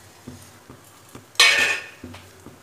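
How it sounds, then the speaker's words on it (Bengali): Grated boiled egg and mashed potato cook in a pan with regular light spatula taps and scrapes against the metal, broken by one short, bright sizzling burst midway. "গ্রেট করা ডিমটা দিয়ে আবার একটু ভালো করে ভেজে নেব।"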